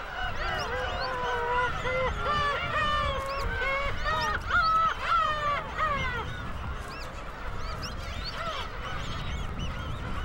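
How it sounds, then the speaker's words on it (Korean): Black-tailed gulls calling at a breeding colony, with loud, overlapping rising and falling squealing cries that repeat steadily and close by, as one gives a long territorial call against a constant chorus of other birds. "갈매기의 긴 울음은 제 영역임을 주장하는 소리다."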